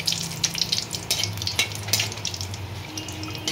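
Whole spices, dried red chillies and bay leaves stirred in a hot pan for a Bengali fish-head muri ghonto, giving a steady close sizzle with light scraping and clinks of the spoon.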